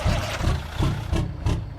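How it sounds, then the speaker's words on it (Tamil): A heavy truck engine in Euro Truck Simulator 2 turns over and settles into a low, pulsing idle, with rhythmic throbs repeating roughly every third of a second, steady and close, with no voices. "வண்டி ஸ்டார்ட் பண்ணுற பாருங்க."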